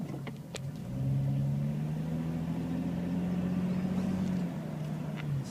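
A classic Jeep Cherokee engine idles and rumbles as it is shifted into reverse, a steady close low drone that swells briefly while the vehicle moves.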